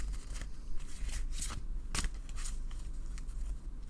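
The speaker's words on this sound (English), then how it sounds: "What happens here is I shuffle until Spirit asks me to stop." A deck of tarot cards is shuffled by hand in a steady stream of papery riffles and soft slaps, close and continuous throughout.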